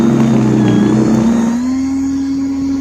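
Cordless Snow Joe 24V ion+ electric snowblower whirring steadily up close, a loud, even motor drone that settles into a slightly higher, smoother tone partway through, with no voices.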